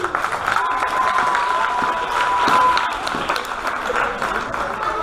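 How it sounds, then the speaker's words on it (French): Crowd at a lightsaber fencing event applauding the arrival of an official costumed figure from the lightsaber section, steady dense clapping for five seconds with a thin sustained tone running through it. "On peut applaudir le suite déjà."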